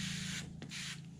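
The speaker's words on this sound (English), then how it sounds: "we're going to just douse her down with our favorite foaming cleaner here" Foaming cleaner sprayed onto a C10 steering column, two short hissing aerosol bursts separated by a brief pause, close but quiet over a low background hum.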